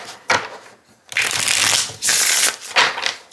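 A deck of cards is riffle-shuffled up close in four quick bursts of crisp fluttering, with short pauses between them.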